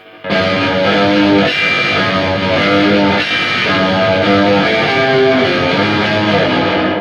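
Electric guitar strums ring out with a wet, splashy spring reverb tail, chords sustaining and blurring together, loud and continuous.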